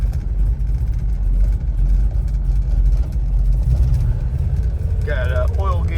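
Restored 1970 Dodge Challenger with a 440 V8 and four-speed, the engine idling with a deep, steady rumble heard up close, and a voice briefly talking near the end.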